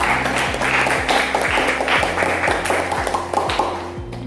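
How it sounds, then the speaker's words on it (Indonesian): Students in a classroom give a round of applause, a continuous patter of many hands clapping with a faint rhythmic tapping underneath, steady and fairly close. "Beri tepuk tangan saya"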